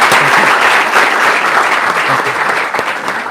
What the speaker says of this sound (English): Let's give a big round of applause to Dr. Iserbyt.